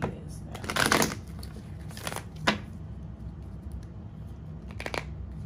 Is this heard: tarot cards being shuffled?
yes